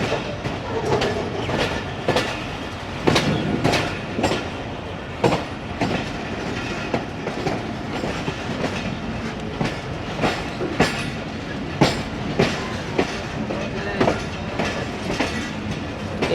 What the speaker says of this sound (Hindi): सबसे आखिर वाले प्लेटफॉर्म पे मेरी गाड़ी जा रही है।